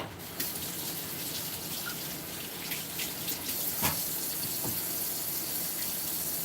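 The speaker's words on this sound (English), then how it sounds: "I'm just going to rinse out my dish here and get some water in my bowl" Tap water running steadily into a bowl at a kitchen sink, a continuous close hiss and splash lasting throughout with a few brief clinks of the dish.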